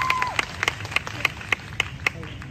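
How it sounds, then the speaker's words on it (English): An audience at a law school graduation ceremony claps in a crowd, with a few sharp, evenly spaced claps standing out close by above the steady wash of applause. "Let's give one more round of applause to all of our distinguished graduates."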